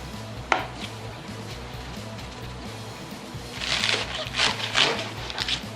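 A knife cuts vegetables for kimchi: one sharp board tap early, then a quick cluster of chopping strokes toward the end over a quiet background.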